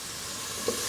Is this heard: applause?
no